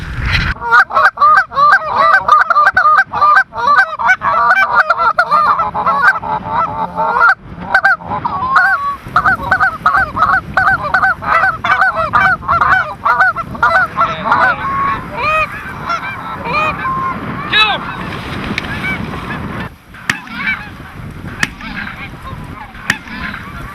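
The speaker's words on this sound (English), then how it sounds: "Huge goose." A large goose honks loudly and repeatedly at close range, rapid harsh calls overlapping in long runs for over twenty seconds, with a few scattered clicks and thumps among them and the honking thinning out toward the end.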